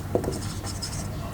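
Pen writing on paper while notes on tonsil locations in Waldeyer's ring are jotted down, a soft continuous scratchy stroke running steadily through a quiet room.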